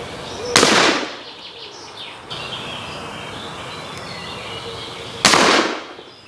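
Two sharp, loud rifle shots firing Minié balls outdoors, about four and a half seconds apart, each a sudden crack followed by a short decay, with faint ambient background and birds between them.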